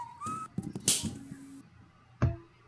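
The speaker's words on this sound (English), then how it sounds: "a principal whistled" In a video game, a principal character whistles in short, bright chirps mixed with brief clicks and a later low thump, all fairly faint and close.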